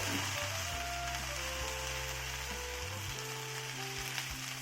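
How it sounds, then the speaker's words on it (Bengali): Vegetables with eggplant frying in a pan for a greens chorchori, a faint, even sizzle continuing throughout beneath a loud steady tonal hum. "সবজিগুলো ভালো করে আমি নেড়ে নিয়েছি।"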